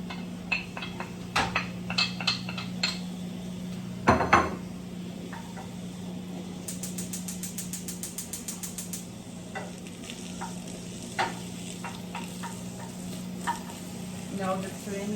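Sweet pepper, garlic, scallion and a piece of hot pepper sizzle softly in a pan under a steady hum, broken by sharp clinks and scrapes of stirring, a louder clatter near the middle and a quick run of ticking.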